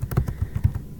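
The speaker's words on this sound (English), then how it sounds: "as I'm typing on the document" Quick keystrokes tap on a computer keyboard while a document is typed, about a second of close, crisp clicks in an uneven rhythm with no talking.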